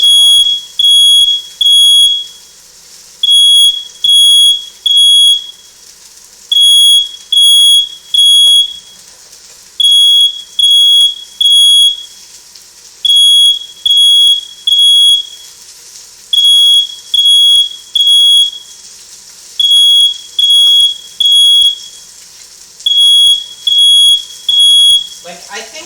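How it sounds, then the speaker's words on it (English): A kitchen smoke detector beeps loudly in repeated bursts of three shrill tones with short gaps, going on steadily for close to half a minute. "I think the smoke detector is just way too sensitive"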